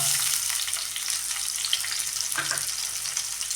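Onions fry in hot oil with a steady, close sizzle and crackle, plus a short stirring scrape partway through; no one speaks.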